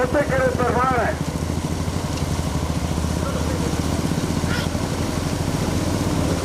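A motorcycle engine runs steadily and loudly throughout a bike race, its revving pitch rising and falling at the start, while people talk faintly underneath.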